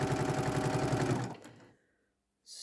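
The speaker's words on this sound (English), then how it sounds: "hold that steady with my left hand as I sew" A sewing machine runs steadily and close up, its needle chattering in a fast even rhythm as it stitches a foundation-pieced quilt block, then slows and stops, leaving near silence before a brief faint noise at the end.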